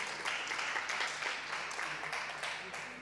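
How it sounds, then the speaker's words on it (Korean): A church congregation at a Sunday service applauds to welcome two sisters, steady clapping filling the room for a few seconds with a murmur of voices beneath. "박수로 한번 환영해 주시겠어요?"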